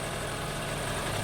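A Honda CR-V 2.4L engine idles smoothly after a rough-idle repair, giving a steady, even hum and broadband rumble with no misses or surges, heard up close.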